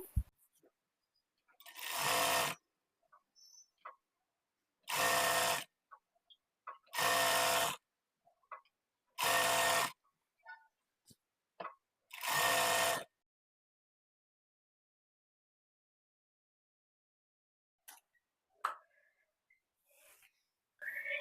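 A sewing machine stitching the side seams of a long frock, heard as five short bursts of loud, even whirring with pauses between them, followed by near silence and a few faint clicks.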